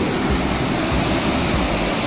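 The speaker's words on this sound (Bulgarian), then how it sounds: "Намираме се точно под реката и е доста шумно." Loud, steady roar of a rushing river heard from directly beneath it in the Erma River gorge near the small village of Bankya, a dense broadband wash with no pauses.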